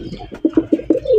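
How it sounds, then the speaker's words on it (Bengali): A pair of Mukhi pigeons cooing close by, a quick run of four or five loud, rhythmic coos rising into a longer final note, with no talk. "এটা হচ্ছে কি আপনার মাক্সি কালারের একজোড়া মুখী কবুতর"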